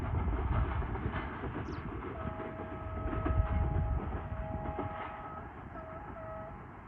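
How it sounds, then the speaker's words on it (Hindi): Freight train arriving at a railway station, a steady low rumble of rolling wagons with a sustained horn tone partway through, continuous and moderately loud without talk. "मालगाड़ी आ चुकी है अपने"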